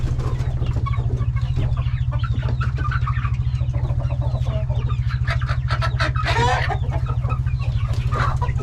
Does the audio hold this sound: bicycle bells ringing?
no